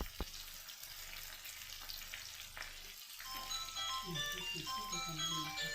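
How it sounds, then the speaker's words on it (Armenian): Potatoes frying in an uncovered pan crackle and sizzle quietly, a faint continuous spatter, with a voice talking over the cooking and brief tonal sounds near the end. "այնքան եմ սիրում այդ կարտոֆիլ տապակելու ժամանակ այդ ճտճտոցի ձայնն։"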